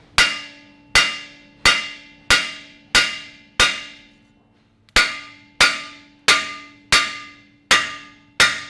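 A hammer strikes a rusted brake rotor on a Land Rover Discovery Series II to shock it loose. About twelve loud, ringing metallic blows land at a steady pace, with one longer gap midway and each clang decaying quickly.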